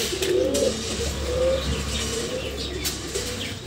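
Pigeons coo softly in low, throaty calls, with brief bursts of wing flapping nearby over a quiet background hum.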